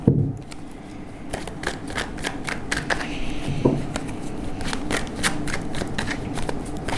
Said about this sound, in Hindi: एक ही शफल करेंगे एंजल्स, जो भी कार्ड देने एक ही बार में दें।